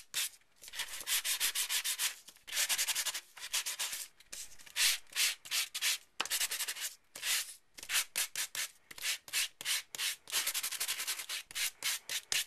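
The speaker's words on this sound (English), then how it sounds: "you can sand it as little or as much as you want" Sandpaper rubbed briskly over an embossed paper card made with a Cuttlebug embossing folder, in close, repeated back-and-forth strokes coming in bursts with short pauses, no talking.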